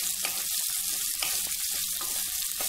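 Large beetroot pieces fry in a pan alongside roasted dal, producing a steady crackling sizzle close up, with a few soft stirring scrapes and no talking.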